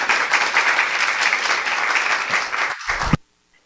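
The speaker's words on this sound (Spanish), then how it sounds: "Le damos la bienvenida con un aplauso" An audience at a women-and-theology congress breaks into warm applause welcoming a speaker, sustained even clapping that ends abruptly into silence.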